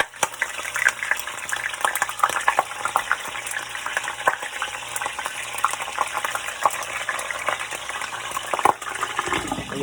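Chicken leg quarters fry in hot extra virgin olive oil in a pan, giving a loud, continuous close sizzle with dense crackling and spattering throughout and no talking.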